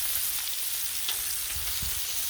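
Bacon sizzles on a Blackstone griddle, a constant close hiss of spitting fat with a few low thumps underneath and no talking.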